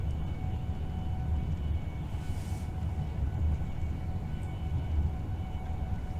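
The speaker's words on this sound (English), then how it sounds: "That noise of the metal wheels, sorry, on the rails as you're going along." A high-speed train in Train Simulator 2021 rolls along the West Coast Main Line, its metal wheels on the rails making a continuous low rumble and rattle, steady and unbroken with no talking.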